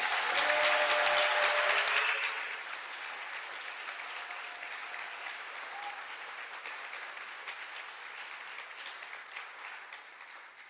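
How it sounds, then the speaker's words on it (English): Legislators on the Mississippi House floor give a round of applause: loud, full clapping for about two seconds, then thinning quickly into scattered, fading claps. "Give them a round of applause"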